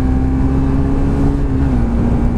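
A Suzuki GSX-R125 motorcycle engine holds a high, steady rev with a thin buzzing whine that dips slightly near the end, heard up close against wind noise while riding.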